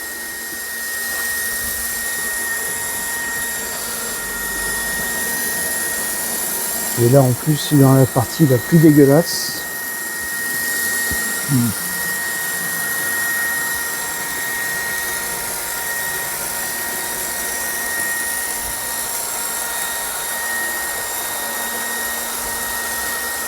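A Lux-Modellbau vacuum cleaning wagon runs on a model railway track, giving off a steady whirring hum throughout. Someone speaks briefly in French over it.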